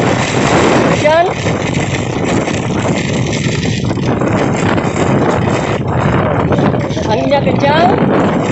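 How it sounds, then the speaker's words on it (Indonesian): Strong wind roars steadily across the microphone with a broad rush of rain and road noise while riding a motorcycle in heavy rain at JMP Ambon, loud and constant throughout the clip. "Anginnya kencang, motor kita tidak mampu melawan angin."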